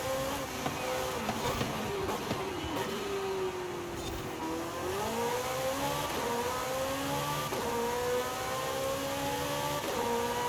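A Porsche 911 race car engine in Forza Horizon 5 accelerates steadily, its revving tones rising and shifting through gears across a continuous, close drone with no talk.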